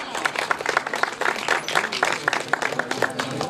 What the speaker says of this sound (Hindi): जोरदार तालियां की गूंज